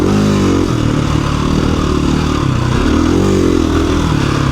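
A KTM 350 EXC-F dirt bike engine runs loud and close on a trail ride, its revs rising and falling continuously with a rough mechanical drone and no talking.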